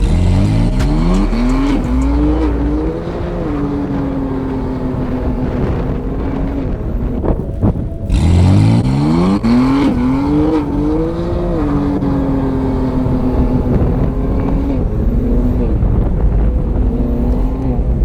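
A BMW M4 engine revs hard while drifting on a mountain road, loud and close, climbing through two long sweeping acceleration pulls with a brief lift between them, backed by wind buffeting.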